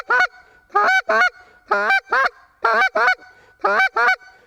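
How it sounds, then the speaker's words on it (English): A short reed goose call sounds in alternating pairs, a sharp honk then a quick cluck, repeated about six times at a steady rhythm, close and clear. "a good practice exercise is to make a honk and a cluck"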